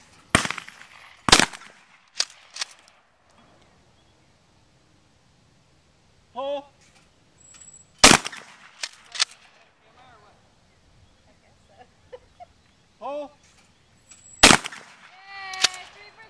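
Gunshots ring out in Texas, three loud sharp cracks spaced several seconds apart, with brief talk between them and quiet outdoor background.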